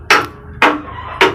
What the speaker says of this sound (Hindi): हल्की हल्की चोट से ये पेडिस्टल बिठाला जाता है